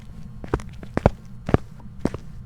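Ghost footsteps in the horror video game Phasmophobia: four or five distinct, fairly loud thudding steps in a slow irregular rhythm over a low background hum, with no talk.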